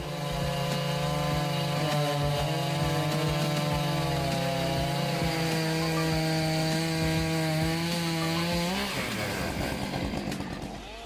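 A Husqvarna 592 XP and a Stihl MS661 chainsaw cut through dry wood with loud, sustained engine snarls. The pitch bogs and rises under load, then breaks into revving near the end.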